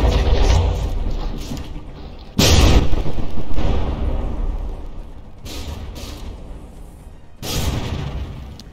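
Battleship gun volleys in the game From the Depths, heard as several loud, close booming blasts in irregular bursts, each ending in a rumbling decay, with no talking.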